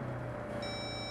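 A single steady electronic tone sounds as a phone voicemail beep in the Saints Row video game, starting partway in over a low background hum.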